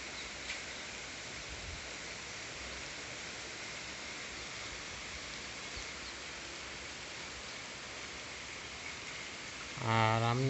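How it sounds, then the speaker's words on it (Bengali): Steady, soft hiss of rain falling, heard from a hotel balcony near Subhash Park, continuous and even, with a brief louder tonal sound at the very end. "এখন এই যে বৃষ্টিটা হচ্ছে, এই বৃষ্টিটা দেখে মানে খুব ভালো লাগলো।"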